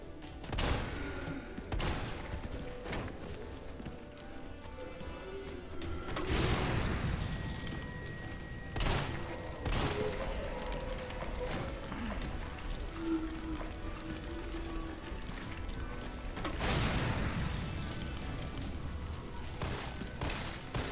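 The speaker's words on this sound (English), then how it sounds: "Shotgun your face." Shotgun blasts in the PC game Resident Evil 3, set in an underground lab: several loud, broad booms, with the heaviest bursts near 6.5 and 17 seconds, over a dense rumbling game soundscape with no talk.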